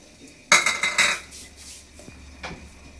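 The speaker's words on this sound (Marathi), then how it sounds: "तर आपल्याला आता हे मीठ हलवून घ्यायचं." A metal spoon scrapes and clanks against a pan while salt is stirred and heated for roasting peanuts, with a loud burst of rattling scrapes followed by a few softer clinks, up close.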